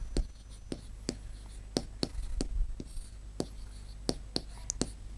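A pen or chalk writes out a Class 6 fractions maths problem in a series of sharp, close taps and strokes, roughly a dozen in an uneven rhythm, over a low steady background hum.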